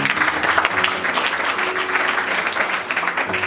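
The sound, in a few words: congregation clapping hands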